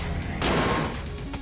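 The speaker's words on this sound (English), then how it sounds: "Charge shot." A charged shot fires from a weapon in Enter the Gungeon on Nintendo Switch, a single loud burst landing partway through and trailing off, with a second sharp crack near the end.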